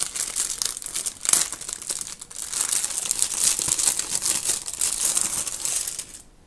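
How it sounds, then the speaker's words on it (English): Packaging crinkling and rustling during the unboxing of a Hobonichi 2021 planner, a steady close-up crackle with a sharper crunch near the start, running alone for several seconds before cutting off. "I'm purposely not toning down the crinkly noises because I know some of you actually like them."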